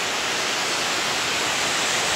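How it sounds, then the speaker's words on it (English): Buttermilk Falls creek rushes at the bottom of a rocky gorge, a steady, loud, dense wash of water with no breaks. "you can see the creek at the bottom."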